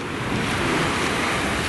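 Sea waves wash onto a Turkish beach at Mahmutlar or Kargicak in late September, a steady broadband surf rush with wind noise across the microphone, close and continuous.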